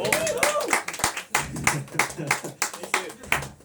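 Audience at a chiptune music pre-party in a Tokyo bar claps for a performer, a lively but uneven burst of fairly close hand claps mixed with some voices and cheering.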